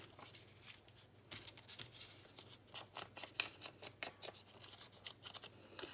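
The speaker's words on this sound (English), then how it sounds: "Just keep tearing it" Paper torn by hand for a Christmas junk journal paper bag pocket, heard as quiet irregular ripping and rustling bursts close by, some sharper than others, with no talking.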